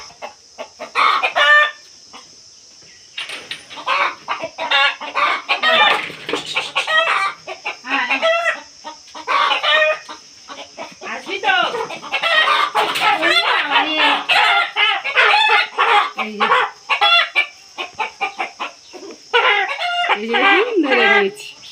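A home-raised broiler chicken clucks repeatedly in a busy burst of calls, close by and fairly loud, with a steady high whine behind it and only brief quiet gaps.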